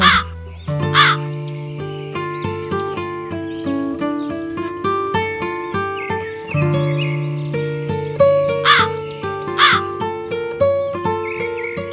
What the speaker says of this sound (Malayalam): മോളുടെ നെയ്യപ്പവുമായി കാക്ക നേരെ പോയത് ഒരു കാട്ടിലേക്കാണ്.